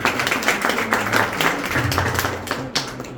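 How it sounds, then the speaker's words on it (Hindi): A crowd at a Father's Day celebration applauds their fathers with dense, steady clapping that stays loud and continuous throughout, with a few sharper peaks. "ताली बजाइए"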